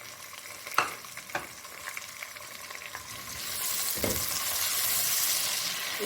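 Chopped medium onion frying in a pan for moong dal mangochi, a few sharp scrapes and clicks from stirring over a steady sizzle that swells louder and hissier in the second half as the onion hits the oil.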